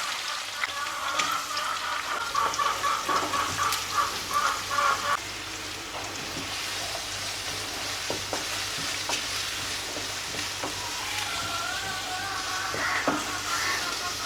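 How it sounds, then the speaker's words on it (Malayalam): Chopped shallots and onions sizzle and fry in hot oil with curry leaves in a pan for a chickpea curry, with steady close crackling and a few stirring scrapes. "ഇതെല്ലാം കൂടെ നല്ലപോലെ ഒന്ന് വഴറ്റിയെടുക്കാം."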